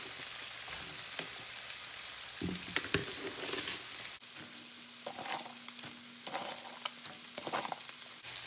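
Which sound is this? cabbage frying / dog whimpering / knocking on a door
cabbage frying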